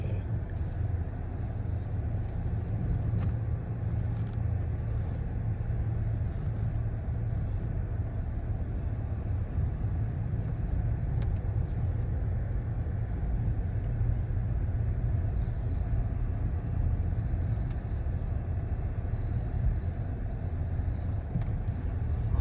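A 2022 Dodge Charger GT cruises along on a morning commute, its engine a low, steady rumble beneath faint road and tire noise from inside the cabin, without talking.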